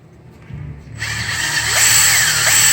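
A power drill spins up and bores into a stuck EGR bolt on a 6.7 diesel engine, its whine rising and holding loud and close as the bit grinds into metal.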